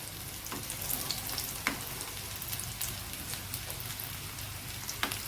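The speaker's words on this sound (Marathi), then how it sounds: "जोपर्यंत ब्राऊन असा कलर येत नाही तोपर्यंत मस्तपैकी तेलामध्ये फ्राय करत राहायचंय" Vegetable crispy rolls fry in oil, making a soft, even crackling sizzle with occasional louder pops and spits, fairly quiet and continuous.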